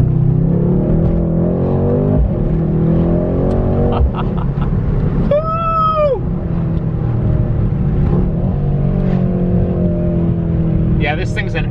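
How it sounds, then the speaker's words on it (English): A 500-horsepower twin-turbo V8 Mercedes-AMG engine in race mode rumbles steadily, with a sharp rev climbing and falling midway and a brief high burst near the end, with talking over it. "this thing's got 500 horsepower, twin turbo V8. I'm in race mode right now."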